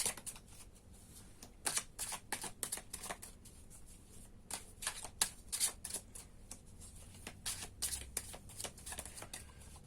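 A tarot deck is shuffled up close by hand in a steady run of quick, crisp card flicks and slaps, with no talking.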